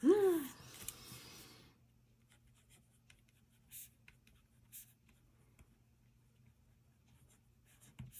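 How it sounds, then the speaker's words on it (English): A pen writes on a smooth Rocketbook reusable notebook page, making faint, scratchy strokes in short bursts with pauses between, close by and quiet, after a brief voice at the start. "It's so smooth to write on."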